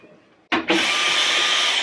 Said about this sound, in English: I always vacuum first.